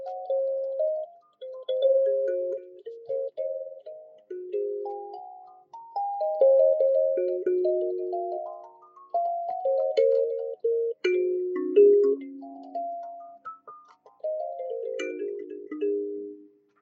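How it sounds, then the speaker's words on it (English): A kalimba played slowly and hesitantly by a beginner, plucked metal tines ringing out single bell-like notes in short halting phrases with pauses between them, clear and close. "I've started learning an instrument called a kalimba"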